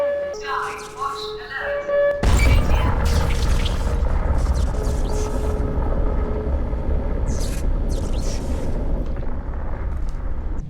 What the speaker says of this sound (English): stuff from outer space is falling